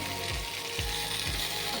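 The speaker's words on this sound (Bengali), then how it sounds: "এগুলো একটু ভেজে নেড়ে চেড়ে নেবো।" Black pepper and papaya frying in a pan for chicken stew, a steady close sizzle with periodic scraping sweeps of a stirring utensil roughly every half second.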